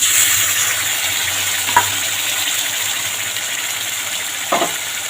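Ground spice paste fries in hot oil in a pan while hilsa fish is being cooked, a loud steady close sizzle with a couple of faint stirring scrapes and no talk.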